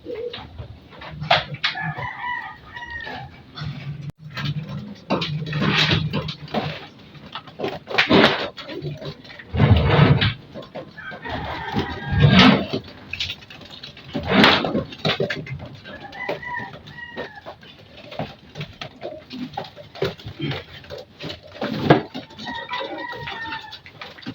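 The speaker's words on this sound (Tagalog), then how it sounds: "Ang ingay ng mga kalapati." Pigeons make repeated cooing calls, several of them overlapping at close range, amid rustling and occasional louder bursts of noise.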